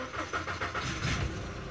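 A VW Jetta engine cranks and catches rough, a car misfiring on one or more cylinders, its uneven low chugging fairly quiet and close for under two seconds.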